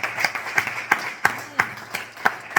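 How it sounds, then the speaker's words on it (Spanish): A church congregation claps for Christ in a steady, evenly spaced rhythm, each sharp clap ringing out roughly every third of a second at moderate loudness. "Dar un aplauso a Cristo"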